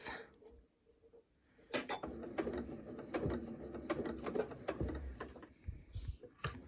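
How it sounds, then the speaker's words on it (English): A sewing machine stitches fabric over a pin, giving a few short mechanical whirs and clicks in bursts after a quiet start, close and moderately loud. "I like to go ahead and sew just 1 stitch over it"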